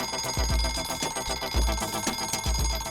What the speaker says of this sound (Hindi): पहले अलार्म बंद कर दे